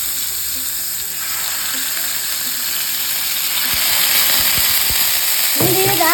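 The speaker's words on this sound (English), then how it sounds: "That's a perfect sizzle." Chicken pieces sizzle steadily in a hot pan, a constant close hiss of frying that swells slightly louder midway, with a few soft clicks and a brief sound near the end.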